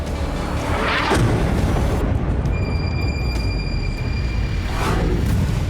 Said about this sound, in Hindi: इजराइल के हमले से बेरूत की इमारत पूरी तरह जमींदोज हो गई।